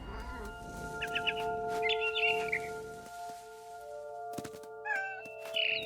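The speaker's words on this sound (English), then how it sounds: "Then I heard chirping outside my window. It was a barn swallow going back to her nest." A barn swallow in the video game What Remains of Edith Finch gives short bursts of high, twittering chirps over a soft sustained musical drone, with some light thumps in between.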